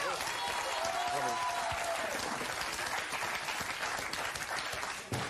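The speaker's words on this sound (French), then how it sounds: "on peut applaudir encore une fois Fakir Bouboun, s'il vous plaît." Steady, dense applause from a television game-show studio audience, saluting a fakir act, carries through the whole stretch with faint crowd noise beneath.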